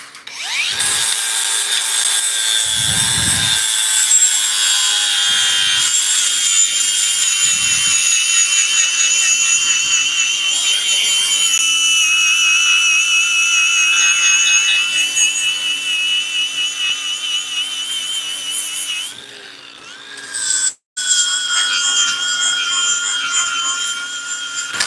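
Grinder fitted with soft discs working on the cowl of a 1938 Cadillac in a custom shop, a continuous high, whining grind that holds for about twenty seconds, briefly cuts out near the end, then starts again.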